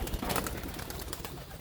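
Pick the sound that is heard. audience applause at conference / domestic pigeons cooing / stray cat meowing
domestic pigeons cooing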